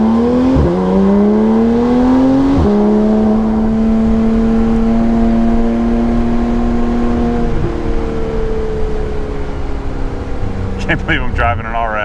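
Porsche 911 GT3 RS engine under way, a strong steady drone with pitch steps as the gears change, loud and continuous through the whole stretch, ending with a brief burst of higher mechanical noise.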